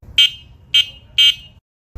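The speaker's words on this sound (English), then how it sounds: "This horn is the loudest I've ever heard on an electric scooter." Three sharp, high electronic horn beeps from an Emove Cruiser electric scooter in quick succession, loud and close, with a brief low rumble between them.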